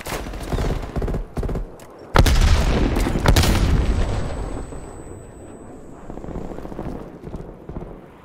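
A frag grenade goes off in Call of Duty: Black Ops Cold War, a loud booming blast at close range amid scattered gunfire and battle noise, with a faint high tone lingering afterward.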